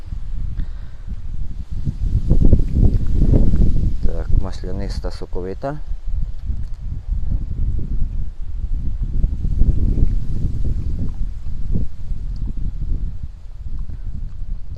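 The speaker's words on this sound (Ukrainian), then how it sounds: "Вітер у нас сьогодні." Wind gusts rumble across the microphone outdoors while a person talks throughout, with a brief chirpy tonal sound in the middle.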